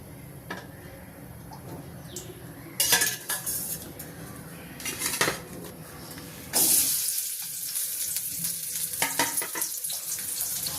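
Chopped onion sautéing in hot oil in a pan with green chili, garlic and cumin, a steady sizzle broken by metal spoon scrapes and clinks, a sharp burst of frying near the middle, close and with no talk.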